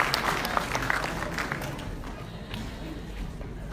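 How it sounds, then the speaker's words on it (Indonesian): Audience at a Ramadan break-fast gathering clapping together indoors, a steady dense patter that fades slightly toward the end, with voices mixed in. "Oke, tepuk tangan buat Pak Ofa"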